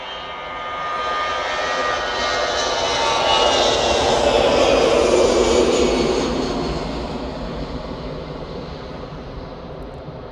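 An easyJet jet airliner passes at Manchester airport, a loud broad engine roar that swells to a peak midway and then slowly fades while staying steady and continuous.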